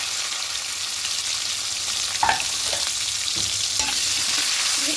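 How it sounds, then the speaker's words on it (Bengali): Chopped onion dropped into hot oil with tempered spices, a loud, close, steady sizzle with a few sharp scraping stirs near the middle and end, no voices. "এখানে একটা বড় সাইজের পেঁয়াজ কুচি দিয়ে দেবো"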